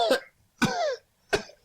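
A man coughs three times in short, harsh bursts after cigarette smoke is blown in his face, close and clear with brief pauses between.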